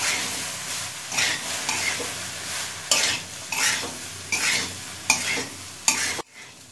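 Boiled pasta stirred and mixed in a pan for egg chicken pasta, with repeated rhythmic scraping sweeps of a spoon over a sizzling background, close and clear, with no talking.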